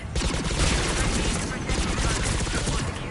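Rapid turret gunfire in Mass Effect 3 aboard a damaged ship, a dense, continuous crackling barrage lasting throughout, loud and close with a voice speaking underneath.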